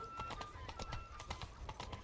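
A horse in The Witcher 3 walks slowly, its hooves clip-clopping in an even, plodding rhythm of distinct close thuds over a faint game backdrop.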